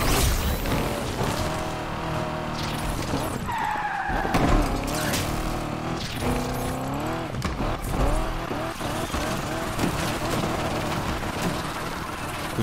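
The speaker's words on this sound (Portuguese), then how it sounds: "essa aqui pra drift tá muito gostosinha também" A car drifts in the racing game Need for Speed Unbound, loud engine revving with long tire squeals and skidding that rise and fall through sliding turns, sustained and close with no speech.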